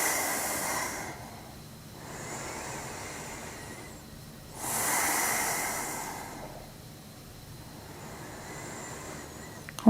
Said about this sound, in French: On ferme les yeux et on écoute notre respiration.